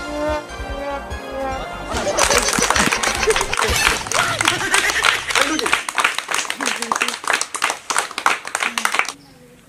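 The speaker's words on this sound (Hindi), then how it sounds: "जोरदार ताली बजेगा।" Loud applause from a quiz-show audience greeting a winner, starting after a voice and building into dense, sustained clapping for several seconds before stopping abruptly.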